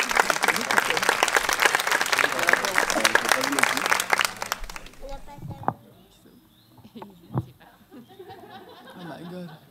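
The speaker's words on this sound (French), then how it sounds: "On peut les applaudir." Wedding guests applaud during the ceremony, a loud dense burst of clapping with some laughter that stops after about five seconds, followed by quieter talking and scattered sounds.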